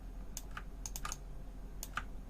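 Mouse clicks from painting with the Clone Stamp tool in Photoshop, a few crisp close taps in small bursts over a low steady hum, with no voice.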